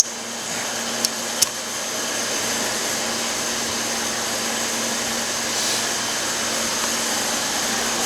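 A wire wheel spins against a rusty car bulkhead, giving a steady loud whirring hiss with a couple of sharp ticks early on.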